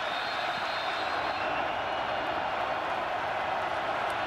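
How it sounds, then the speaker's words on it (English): Sellout crowd at a Fresno State vs Boise State college football game, a steady, dense roar of cheering and noise filling the stadium without a break. "a 13th straight sellout crowd that'll let you hear it"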